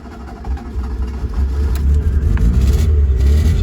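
A Fiat Panda Italia 90 left parked outside for three years briefly catches on a splash of fuel, its engine sputtering into a loud, rough low rumble that swells and holds close by without any talk.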